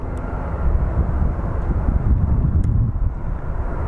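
A Canyon Blue airliner departs Phoenix Sky Harbor, its engines giving a loud, steady broadband roar with wind buffeting the microphone throughout.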